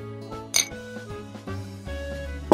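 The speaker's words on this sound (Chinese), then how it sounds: "来，干杯。" Drinking glasses clink together in a Christmas Eve toast, one bright clink followed by a few softer knocks of glass and tableware, close and brief amid low background music.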